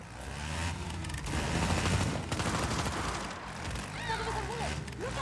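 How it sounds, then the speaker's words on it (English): Gunfire in Just Cause 4 rattles in dense, uneven bursts amid game noise, with a horse-like whinny near the end and a voice speaking partway through. "Don't start shooting at me."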